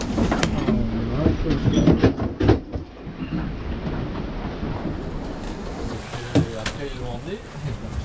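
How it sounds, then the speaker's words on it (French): Long sea swell waves heard aboard a boat crossing from Palamós in Spain to Marseille, with rolling water surges and a rumbling wash, punctuated by a few sharp knocks and faint voices in the background. "Elles sont plus longues, c'était de la houle."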